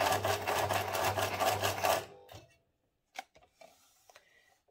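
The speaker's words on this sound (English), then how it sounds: "I can sew parallel to the edge of the frame again" A sewing machine stitches a spider web pattern in a short, fast, loud burst of needle chatter for about two seconds, followed by quiet handling clicks.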